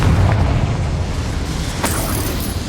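A Confringo blasting spell explodes in the Hogwarts Legacy video game, a loud, deep booming blast with rumbling low-end that sustains and slowly fades, a sharper burst cutting in partway through.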